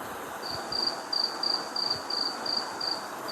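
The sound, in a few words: crickets chirping from a sound machine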